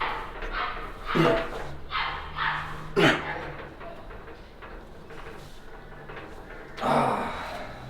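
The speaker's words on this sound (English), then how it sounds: "A vicious dog attack in the neighborhood." A neighborhood dog barks in the distance, several rough barks and yelps spread irregularly over a few seconds against a quiet indoor background.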